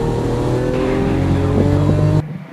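A Lamborghini Aventador on a racetrack in Las Vegas accelerates hard, its engine droning loudly and steadily at close range before cutting off abruptly near the end.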